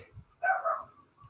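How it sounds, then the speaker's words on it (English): A single dog bark rings out once at close range, sharp and brief, with faint background sounds on either side. "I wish I could get my dog to stop"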